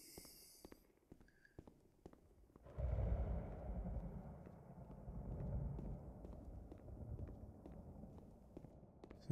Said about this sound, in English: Can hear our own footsteps